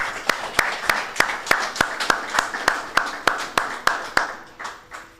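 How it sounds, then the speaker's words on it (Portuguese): Audience applause at a public talk by the Provincial Governor of Luanda, heard as a steady run of sharp, evenly spaced claps with a roomy crowd wash, close and fairly loud, fading slightly toward the end. "Aplausos."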